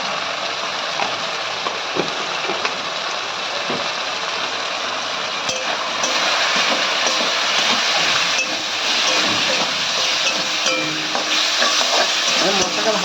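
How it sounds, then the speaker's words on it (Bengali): Masala spices stirred and fried in oil in a pan for chicken kasha, a steady close sizzle with scraping stir strokes throughout, continuous and fairly loud. "মশলাটা ভালো করে কষাবো।"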